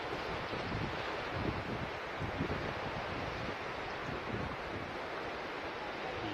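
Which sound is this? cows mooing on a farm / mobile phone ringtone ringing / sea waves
sea waves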